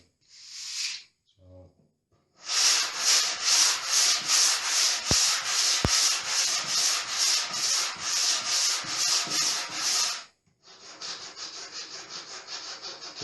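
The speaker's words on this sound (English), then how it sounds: "The damaged area as well, just sand that smooth, just on the edges and the sharp corners." Hand sanding of painted woodwork with 180 grit sandpaper: a steady run of loud, rhythmic back-and-forth rasping strokes close by, with a brief burst at the start and a softer stretch of rubbing after a short pause.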